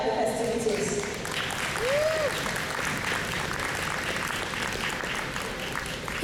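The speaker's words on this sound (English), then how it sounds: "Keep the round of applause going" Audience applause at an outdoor community festival, a steady sustained wash of clapping that carries on through the whole stretch with a crowd murmur underneath and a voice briefly heard near the start.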